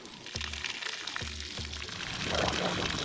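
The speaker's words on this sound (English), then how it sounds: "because a lot of water comes out" Water gushes steadily from an RV water softener hose running full blast, a broad rushing wash that grows louder toward the end, with a few low thumps underneath.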